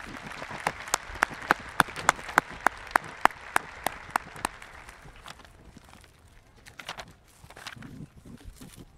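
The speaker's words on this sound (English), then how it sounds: "Round of applause for our board." At a 2023 high school graduation ceremony, crisp, fairly close claps ring out in an even rhythm for a few seconds before thinning into scattered, fainter applause from the crowd.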